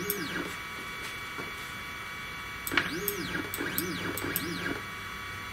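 A 3018 CNC router axis travels at 500 mm per minute, giving a faint, steady whirring stepper-motor whine with short rising and falling tonal sweeps in bursts, over a low background hum.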